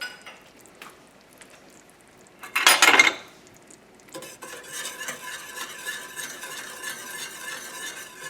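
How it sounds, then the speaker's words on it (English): Shrimp sauce and heavy cream get mixed in a pan: a short loud scrape or clatter of a utensil on the pan, then a continuous soft swishing stir with light clinks, close by and with no talking. "finish this off with heavy cream. Now I'm going to mix that."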